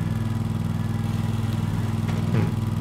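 Mowing equipment running in the video game Farming Simulator 22, a steady pulsing engine drone with a low rhythmic throb, close and continuous, with no talking.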